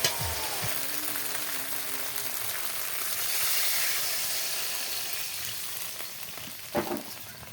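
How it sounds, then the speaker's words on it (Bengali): Water poured onto fried masala in a hot pan for a home-cooked curry sends up a loud, steady sizzling hiss that fades slowly, ending with a few clatters near the end. "এবার জল ঢেলে দেবো"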